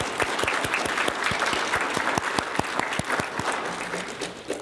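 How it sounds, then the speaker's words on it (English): An audience claps steadily for Phi Theta Kappa inductees at a college induction ceremony, a moderate indoor round of applause with distinct individual claps that holds even and then eases slightly at the end. "will you help me by giving them a round of applause for their achievement?"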